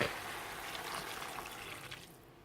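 Beef stock pours into browned mince in a pan, a steady liquid splash and gurgle that runs continuously before tapering off near the end.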